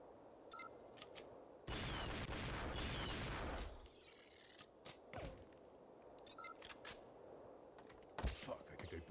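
Gunfire in a multiplayer shooter video game, with sniper shots and bursts including a long sustained volley, heavy thuds and impacts spread across the stretch, loud and close amid game noise.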